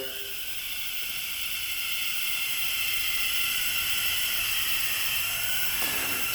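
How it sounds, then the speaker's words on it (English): Air hissing out through a failed head gasket on a special edition race quad, a steady broadband hiss that swells slightly and holds continuously with no talk over it. "You guys hear the air coming through?"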